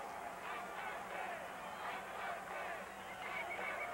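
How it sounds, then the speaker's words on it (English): A wrestling arena crowd roars and cheers, urging on wrestler Chief Jay Strongbow in a steady wash of massed voices and babble. "Crowd urging him on."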